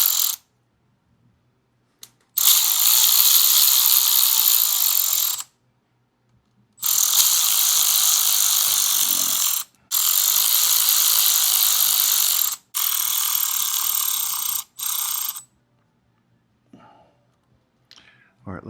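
Ratchet wrench running in bolts on a 2024 Harley-Davidson Road Glide during a Stage 2 ThunderMax install, loud close bursts of rapid clicking in several runs separated by short pauses.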